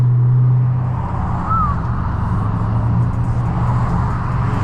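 A 1000HP Dodge Hellcat engine in rush hour traffic, a loud deep rumbling roar up close that swells at the start and then settles into a steady low growl.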